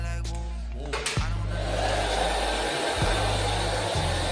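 A handheld hair dryer blows steadily on a twisted section of hair, a loud continuous whoosh with a few brief dips as it moves, and no voice over it.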